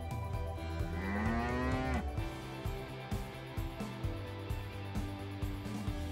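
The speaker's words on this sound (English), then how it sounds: "Cow." A cow gives one long, deep moo lasting about two seconds, then the call fades into a steady rhythmic background beat.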